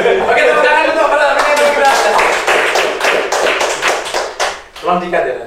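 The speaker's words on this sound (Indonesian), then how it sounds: "tepuk tangan untuk para" Audience applause for trainee cadets at an Indonesian civil service institute event, a dense burst of clapping that swells, thins out and fades after about five seconds, with talk mixed in.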